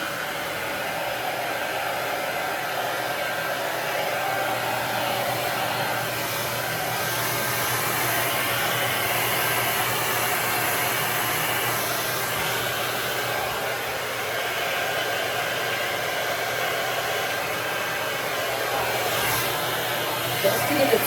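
A blow dryer runs continuously while drying curly hair, a loud, steady whooshing roar that shifts slightly as it moves over the head, with no talking.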